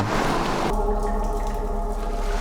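Water trickles and drips in the catacombs of the horror video game Golgotha, a washy splash that cuts abruptly to a quieter steady tonal drone.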